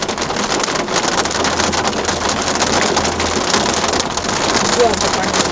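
Rain and hailstones drum steadily on a moving car climbing uphill, a dense broadband patter with low engine and road rumble underneath throughout.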